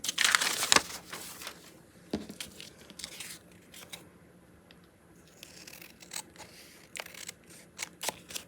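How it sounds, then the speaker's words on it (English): Scissors snipping and cutting paper near the microphone, a series of short crisp cuts and rustles with irregular pauses between them, fairly quiet overall. "These scissors."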